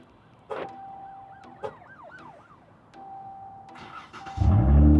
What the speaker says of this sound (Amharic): ላይክ ደብል ታፕ ስታደርጉት ይነሳል መኪና